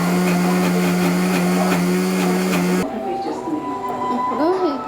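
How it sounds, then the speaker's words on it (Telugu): A mixer grinder whirring loudly as it grinds onion and garlic chutney with coriander, cumin powder and salt, steady high whine that cuts off partway, followed by a quieter room with a voice speaking. "తర్వాత మళ్ళీ మిక్సీ పట్టేసుకుందాం అన్నమాట"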